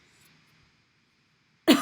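Near-silence with a faint steady tone, then one abrupt, loud cough right at the end.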